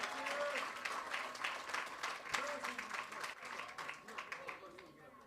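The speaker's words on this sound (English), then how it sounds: "Give them a round of applause." Audience applause for coaches at a scholarship shootout event, a crowd clapping steadily and then tapering, fairly faint and distant, with a voice talking over it through much of the clapping.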